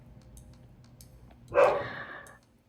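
A single dog bark, fairly close and sharp, standing out over a quiet low background hum.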